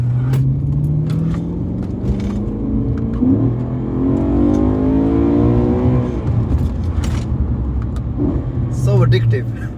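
A BMW M3 E90 revs from inside the cabin, its engine note sweeping up and back down in a smooth rising and falling surge before sharp blips near the end, with a person talking over it.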